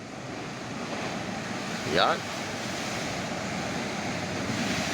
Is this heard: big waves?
yes